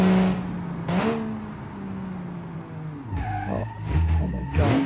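A custom-built 1947 car in the BeamNG driving game brakes hard and skids, engine droning and dropping, tires squealing in bursts and revs jumping as control is fought, close and loud.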